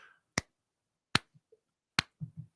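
A lone voice mimics the sparse clapping of just two or three people in a tennis crowd, producing three sharp, isolated claps spaced well apart, followed by a couple of soft murmured sounds.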